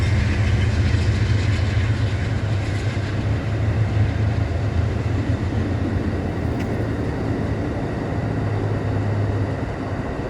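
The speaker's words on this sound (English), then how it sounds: "Amtrak going on the far track." An Amtrak passenger train passes on the far track, a continuous heavy rumble with a faint rhythmic clatter of wheels that stays steady and loud from start to finish.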